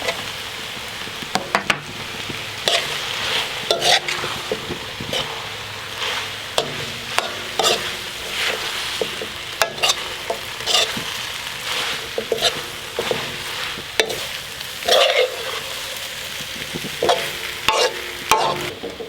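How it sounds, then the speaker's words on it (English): Bok choy being stir-fried in a pan for chicken pad see ew, with a steady sizzle and repeated sharp scrapes and clacks of the utensil tossing the greens, close and loud, with no talking. "And the bok choy won't take long to cook."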